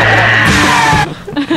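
A person lets out a loud, strained scream that holds for about a second before breaking off into a few rough vocal bursts, close and harsh.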